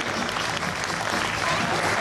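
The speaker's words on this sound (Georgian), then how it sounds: "იქით კულისებში გავუგზავნოთ ამ კაცს აპლოდისმენტები" An audience at a children's and youth festival concert in Tbilisi applauds, a dense, loud, continuous wash of clapping throughout.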